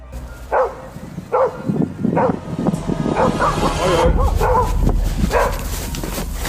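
A dog barks in sharp, separate yips, several in a row, with other dogs and a rumble of a moving herd of wild animals behind them, in Africa.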